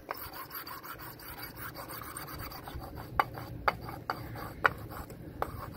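A light abrasive griddle pad rubbed over corroded metal on a towbar gives a steady, close scratching scrub, broken by a few sharp clicks and taps.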